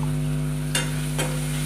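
Chana dal curry with salt, turmeric, red chili and coriander powder is stirred in a pan over a steady sizzle and low hum, with two short scraping strokes of the spoon.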